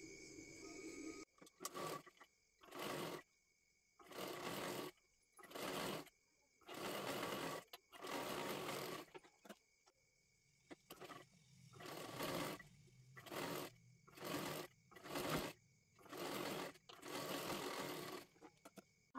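A sewing machine stitching a puff sleeve runs in repeated short bursts separated by brief pauses, a close, rapid mechanical whirring with steady rhythm, with faint background hum between runs.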